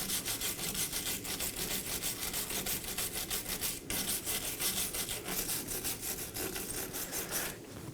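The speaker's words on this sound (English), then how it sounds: "Now I'm going to prep the face of the knuckle with a wire brush." Wire brush scrubbing the metal face of a steering knuckle on a 2018-2024 Chevrolet Equinox during a wheel bearing and hub replacement: continuous, close, rapid bristly rasping strokes with a brief pause near the middle, no talk.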